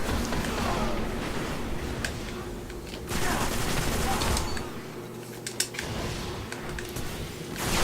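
Rapid sprays of automatic gunfire from a Halo multiplayer match on Xbox, dense bursts layered with game effects and clatter, loud and continuous throughout.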